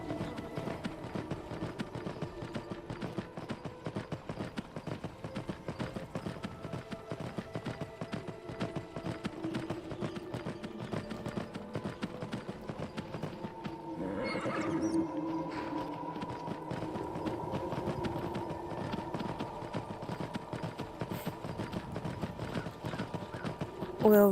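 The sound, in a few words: horse galloping and neighing in Skyrim VR, a video game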